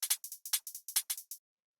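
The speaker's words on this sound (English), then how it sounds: "So the first thing in the drums that we have are these hi-hats," Quiet Future Garage hi-hat ticking out steady 16th notes, crisp and bright, in an even run of short metallic hits before falling silent.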